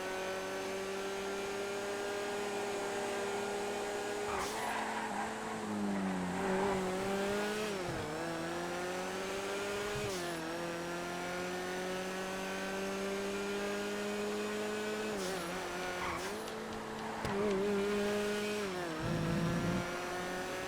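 Race cars in GTA FiveM engines whine steadily through a race, revs rising and dropping with gear changes and brief tire squeals, several cars audible together, no talking.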